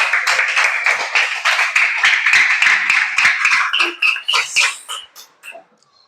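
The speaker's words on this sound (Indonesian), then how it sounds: "Berikan tepuk tangan untuk kelompok 4" Classmates clap for group 4 in a classroom, a dense burst of applause that holds steady for several seconds and then thins into scattered claps before stopping.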